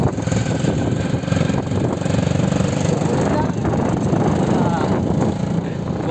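A motorbike engine runs steadily on a road through the Jangal Mahal forest area, a continuous rough drone with wind rumble and voices over it.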